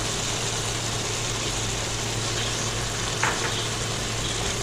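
Potatoes and masala with two tablespoons of yogurt frying uncovered in a pan, a steady, moderately quiet sizzle with a low hum underneath and one brief scrape of stirring, no talk.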